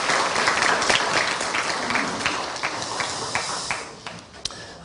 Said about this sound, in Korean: 우리 감사의 박수, 격려의 박수 하겠습니다